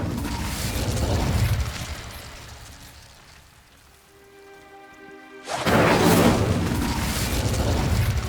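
A broad roaring blast from the Incendio fire spell in Hogwarts Legacy, crackling loudly, fading to a hush with a faint ringing tone, then bursting back in a second loud rush.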